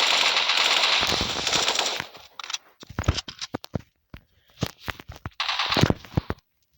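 Rapid automatic gunfire in a video game: a sustained loud burst for about two seconds, then scattered short shots and clusters, ending with another brief burst.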